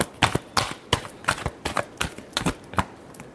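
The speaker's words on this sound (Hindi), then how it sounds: "last shuffle" A deck of tarot cards is shuffled by hand during a love reading, giving a quick run of crisp riffling flicks and slaps, close and fairly loud with no talking.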